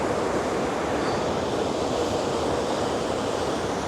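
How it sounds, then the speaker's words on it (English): Ocean waves breaking on a shore, a loud, steady rush of surf with wind buffeting the microphone and no voices. "Look at the waves here, look."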